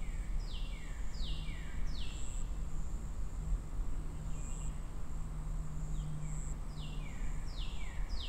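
Ambient birds chirping in a forest area of the video game Halo: Reach, repeated short descending calls over a steady insect-like hum and low rumble, continuous and moderately loud without speech.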